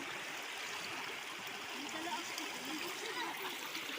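Cold water flows steadily in a provincial stream, a soft, continuous rushing and splashing that sounds faint and even throughout.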